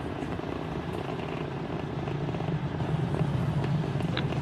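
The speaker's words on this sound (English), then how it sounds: "flying crew on board Dragon and Falcon 9 to new heights." SpaceX Falcon 9 rocket carrying a crewed Dragon capsule in ascent on the Polaris Dawn launch, heard as a steady, broad, distant roar with low rumble that holds constant throughout.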